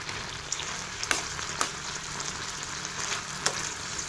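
Tomato pieces softening in a pan give off a steady, gentle sizzle, with a few faint clinks breaking through the continuous frying hiss.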